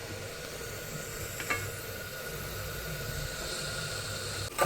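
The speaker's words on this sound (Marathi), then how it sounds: "कांद्याला त्याला तुम्ही परतून घेऊ" Onions sautéing in oil for khichdi, a continuous soft sizzle and hiss at close range, with a couple of brief stirring knocks.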